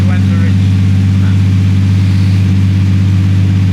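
A Nissan Skyline R34 M-spec Nür runs at a steady idle, loud and close, with a deep constant engine drone and faint voices in the background.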